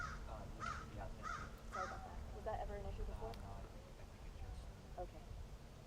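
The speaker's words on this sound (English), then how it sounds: "Have the crows been okay?" Several crows caw outdoors in a repeated series of harsh calls at a moderate distance, heard over steady low background rumble and wind.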